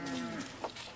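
A heifer on a farm gives a short, fairly soft moo that trails off, heard alone for about a second.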